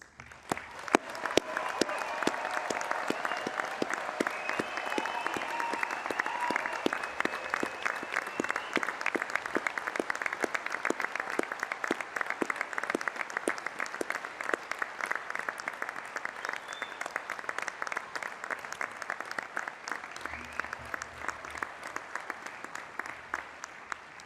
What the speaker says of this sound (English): I invite you to share your appreciation for their achievement by applauding their efforts